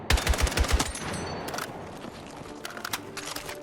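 Rapid bursts of assault rifle tap fire in Battlefield 6, several sharp close shots in quick succession at the start, then quieter distant gunfire and ambient battlefield noise.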